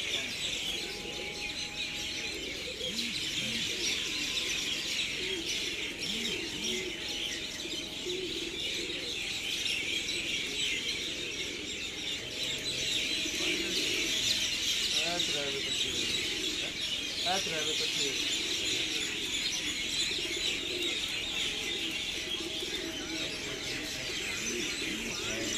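Baby pigeons cooing and chirping after landing make a steady, busy bird chorus at moderate distance, continuous over a constant background hum.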